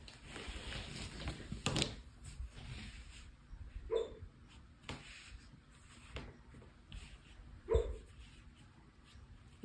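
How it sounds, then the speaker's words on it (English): A sleeping dog whimpers and yips softly during a nightmare, with faint intermittent whines and a few sharper cries spread across a quiet indoor room, close but low in level. "If you hear that, that's our grand dog, Lily. She's probably having a nightmare"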